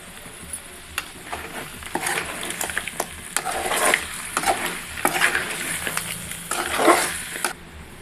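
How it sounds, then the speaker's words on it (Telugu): Crab curry stirred in a pan after chili powder and salt go in, with a faint sizzle under intermittent scraping and clinking of a spoon against the pot, close and steady with no talking. "మొత్తం బాగా కలుపుకోండి"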